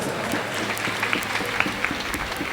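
Audience applause during a Hindu religious discourse on a Mangal Kalash installation ceremony, a steady dense round of clapping from a crowd, moderately loud and continuous without talk.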